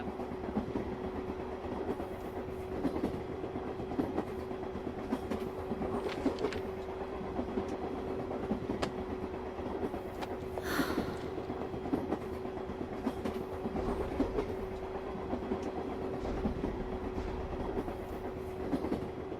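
A train pulls into a station platform, its wheels rolling and clattering steadily over the rails alongside a constant low hum, close and continuous, with a brief brighter squeal partway through.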